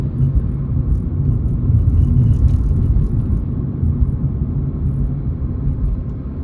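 Steady low engine rumble and road noise from inside a car during a practice driving test in Rungis, the motor building gently as it picks up speed, continuous and close with no talk.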